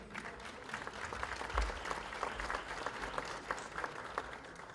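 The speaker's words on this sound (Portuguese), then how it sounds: "Dr. Francisco, a quem eu peço uma salva de palmas" An audience at a conference on anti-corruption gives a round of applause for a speaker. The clapping is dense and sustained across the whole stretch, moderately loud, with no speech over it.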